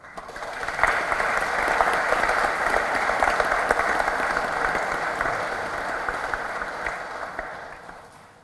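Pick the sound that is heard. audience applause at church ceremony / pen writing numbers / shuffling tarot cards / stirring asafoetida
audience applause at church ceremony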